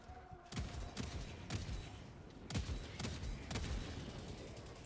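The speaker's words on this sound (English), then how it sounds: "Is that an autocannon?" An autocannon fires in the co-op shooter Helldivers, heavy booming shots spaced about half a second apart over a steady rumble of distant battle, with no voices.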